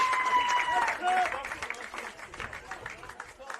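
Football crowd at Darcy Street in Hobart, a semi-professional National Premier Leagues preliminary final between South Hobart and Kingborough, reacts to an equalising goal with applause and cheering. It swells early and then settles into a lighter, steady murmur of clapping.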